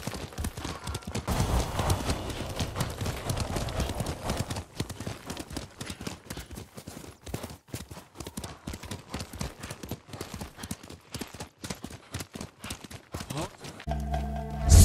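Horse hooves in the game Ghost of Tsushima clatter in a quick, rhythmic clip-clop, heavy at first and then lighter and more scattered as the horse moves on, ending with a short loud burst.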